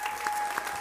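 Audience applause at a live gladiator-themed event, a brief, steady wash of clapping from a crowd.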